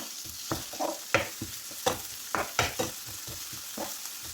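Tomato and onion sauté in a pan, a quiet background sizzle punctuated by repeated close scraping and stirring strokes of a spoon against the pan, no voices.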